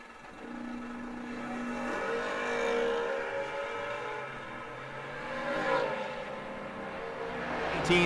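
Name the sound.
third gen Camaro and Oldsmobile Achieva drag racing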